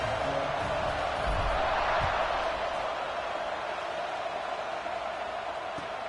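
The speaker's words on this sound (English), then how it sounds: "this crowd is buzzing after that last score" Stadium crowd in an NCAA football video game keeps up a steady, broad roar after a score, a continuous buzzing wash of many voices with no distinct words.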